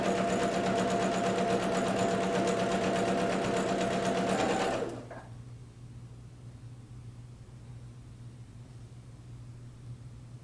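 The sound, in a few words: sewing machine stitching a quilt block seam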